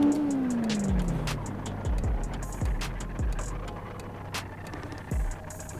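A Renault Sandero Stepway drifting in City Car Driving: a steady engine drone with a falling tone and short tire squeals, close and continuous, with no talk.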